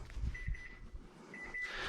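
A kitchen timer for brownies baking in the oven gives two faint, short beeping bursts, each a quick run of thin electronic tones, against quiet room noise and a few soft thumps.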